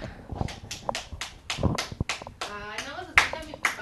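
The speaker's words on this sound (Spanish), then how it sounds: "aplausos." A small group claps their hands in a series of sharp, separate claps, followed by voices speaking.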